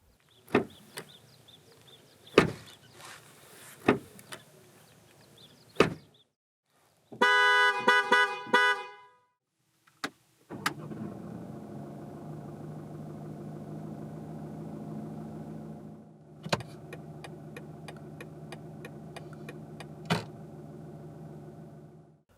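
A BMW 118d M Sport sequence: several sharp door or latch thunks, a short horn-like chime, then the diesel engine starts and idles steadily with a couple of brief beeps.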